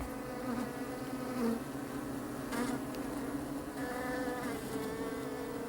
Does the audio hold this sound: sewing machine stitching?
no